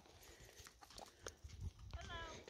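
Horses walking on a trail, with soft hoof clops coming in short irregular bursts, fairly faint and close, while people talk over them.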